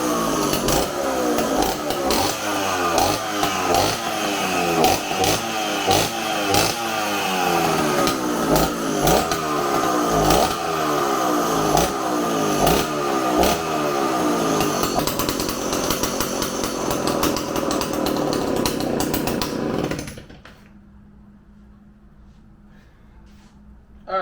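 A Stihl 041 Farm Boss chainsaw runs close and loud for about twenty seconds, its engine rising and falling in repeated revs before it cuts off abruptly, leaving near silence.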